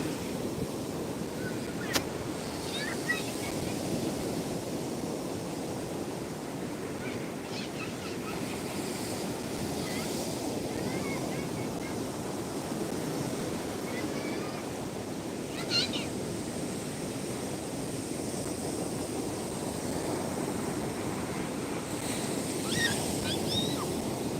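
Stormy Black Sea surf at Odesa rolls in as a steady, loud wash of breaking waves and wind buffeting the microphone, with a few faint higher cries over the roar.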